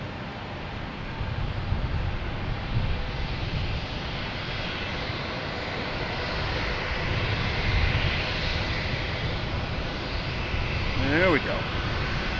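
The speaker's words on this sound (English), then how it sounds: "It's a A330-900 heading to London Heathrow." An Airbus A330-900 jet taking off from Boston Logan Airport, bound for London Heathrow: a steady, fairly loud broadband engine roar that builds slightly toward the end, with brief talk over it.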